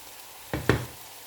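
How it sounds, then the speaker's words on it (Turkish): Onions and minced meat stirred in a pan for Malatya-style boiled içli köfte, two brief sizzling scrapes close by against a quiet background. "Soğanla kıyma kavruluyor."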